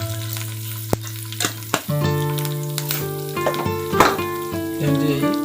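Spices and curry leaves for a tempering crackle and sizzle loudly in hot oil, with steady frying hiss, scattered pops and a spoon clinking against the pan while stirring.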